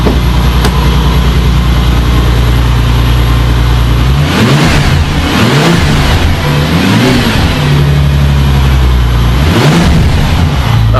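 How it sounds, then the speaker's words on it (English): Bentley with 620 brake horsepower revved from the rear on a cold day, idling steadily before a series of sharp throttle blips that rise and fall, with a final rev near the end. "I'll give it a rev."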